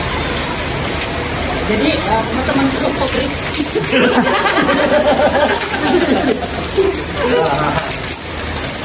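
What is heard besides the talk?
rain falling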